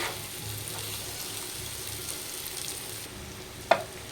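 Chicken and onions frying in a pan for chicken curry, a faint steady sizzle with one sharp clink of a utensil near the end.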